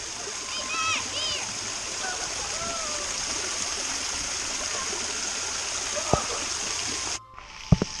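Water splashes and rushes steadily in a waterfall on a woodland creek in the Bucklick Sugarcamp area, with children playing in it and their voices over the water, and a sudden cutoff near the end.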